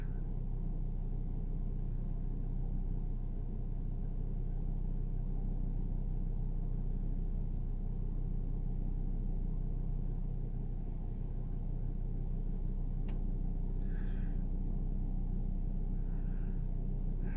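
A car engine idles steadily in a low, even rumble after a long, difficult start, heard from close by with faint scattered clicks near the end and no talking.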